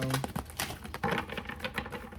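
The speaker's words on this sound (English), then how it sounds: "Just shuffling" Tarot cards being shuffled up close, a quick papery riffling patter that runs steadily, with no voice over it.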